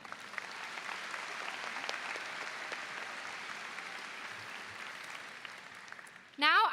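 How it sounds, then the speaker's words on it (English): A graduation ceremony crowd applauds in a broad, sustained wash of clapping that stays fairly even from start to end. A voice cuts in loudly near the close. "Let's give one more round of applause to John Tran."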